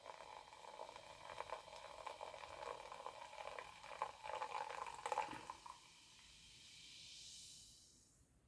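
Green Mountain Dew soda poured into a glass, a steady fizzing, splashing pour that builds and then settles into a soft hiss of bubbles, with no talk.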